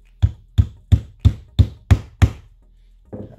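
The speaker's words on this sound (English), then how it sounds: "hammer this in" Seven evenly spaced, sharp hammer knocks drive a pin into a slippery Teflon sheet while a piston sleeve for an airgun is made, followed by a softer clunk.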